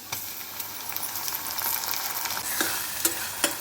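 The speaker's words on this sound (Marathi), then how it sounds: "ही 1 वाटी आहे टोमॅटो बारीक चॉप करून मी 1 वाटी टाकणार आहे" A bowl of finely chopped tomatoes goes into onions that are browning in a pan, setting off a steady close sizzle of frying with a few soft stirring clicks near the end.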